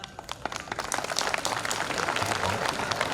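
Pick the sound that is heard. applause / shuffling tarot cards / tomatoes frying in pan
applause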